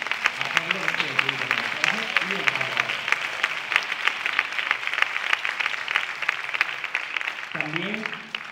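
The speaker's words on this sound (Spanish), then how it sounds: "pido otro aplauso porque es que de verdad es muy difícil" Audience applause at a short film gala in Castilblanco, dense steady clapping filling the whole stretch, with a voice talking over it near the start and again at the end.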